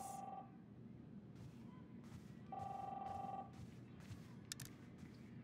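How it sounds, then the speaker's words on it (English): A telephone in the Captain Spirit video game gives two trilling rings, each about a second long, separated by a pause, over a low background hum and scattered soft thuds. "answer the phone"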